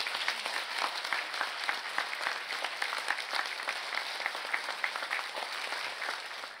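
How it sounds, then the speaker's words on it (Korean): An audience at a Buddhist meditation lecture in Korea applauds the arriving lecturer with sustained, dense clapping that holds steady throughout, heard from a moderate distance. "뜨거운 박수 부탁드립니다."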